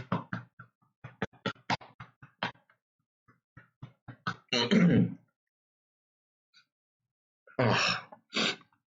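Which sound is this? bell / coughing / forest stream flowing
coughing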